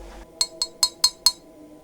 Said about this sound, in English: Glass clinking glass.